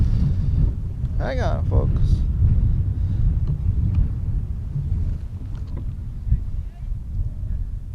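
Gusty wind roars across the microphone at an outdoor varsity high school baseball game between Bolton/Schroon and Wells boys, a steady low rumble running the whole time beneath a voice.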